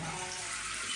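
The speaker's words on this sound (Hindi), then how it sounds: "ये देखिए ये आ गया पानी" Water gushes from a newly fitted water heater tap in a steady, close, full-bodied rush that sounds constant and strong.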